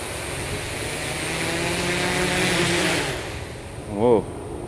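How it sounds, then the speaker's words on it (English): A CG SuperX drone takes off in attitude mode, its steady propeller whine droning loud and close throughout, easing slightly near the end as a voice briefly speaks over it. "Here's attitude mode takeoff."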